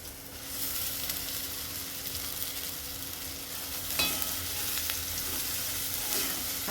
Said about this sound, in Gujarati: ડુંગળી અને ટામેટા આપણા સતળાઈ ગયા છે તો આપણે પાલક નાખી દઈશું